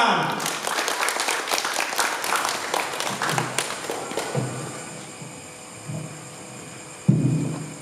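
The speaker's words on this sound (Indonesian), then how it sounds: "kita beri tepuk tangan." Studio audience applause welcoming Rama Bayu, a teacher of scripture, at a Bible-study broadcast: dense clapping builds loud up front, then thins and fades over several seconds before a voice begins.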